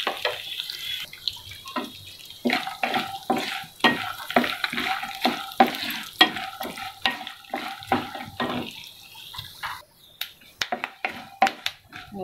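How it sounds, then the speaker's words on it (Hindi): Peanuts frying in oil in a pan, a soft sizzle under a steady run of close scraping and stirring strokes in a regular rhythm, with no voices. "मूंगफली भी हमारी तल चुकी है"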